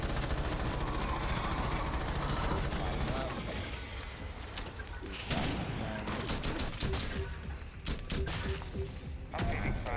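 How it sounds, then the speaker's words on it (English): Submachine gun fire in the video game Rainbow Six Extraction, loud rapid bursts over a dense, busy game soundscape, with short pauses between volleys. "And now we can pull out the SMG and start being a little louder."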